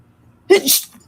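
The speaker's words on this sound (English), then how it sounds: "ooh, so much sneezing." A single sharp sneeze bursts out close by, a quick intake followed by a loud hissing release, brief and alone.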